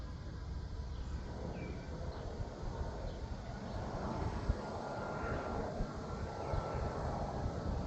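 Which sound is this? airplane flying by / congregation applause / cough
airplane flying by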